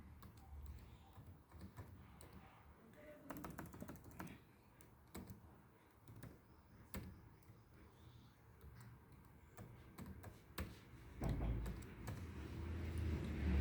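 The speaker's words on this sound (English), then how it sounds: "Now there is a very secret password which I'll type in." Someone types a password on a computer keyboard, producing scattered, quiet key clicks with uneven gaps and short flurries, and a low rumble builds near the end.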